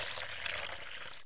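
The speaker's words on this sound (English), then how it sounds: "Now watch carefully as I pour this full glass of white milk into this cone of" A full glass of white milk pours into a rolled newspaper cone, a brief, faint, steady splashing trickle that stops abruptly.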